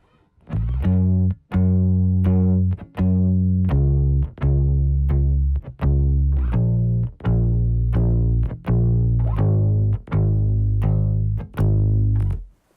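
A bass guitar plays steady, evenly spaced notes, about one per second, loud and close with short gaps between phrases.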